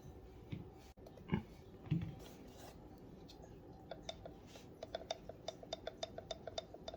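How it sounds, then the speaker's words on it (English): Gear mesh of an Arrma Gorgon 3s RC car with a brushless motor, heard as faint, quick mechanical clicks and ticks close by, speeding into a steady run of light ticking. "Can you hear that? That's a proper gear mesh."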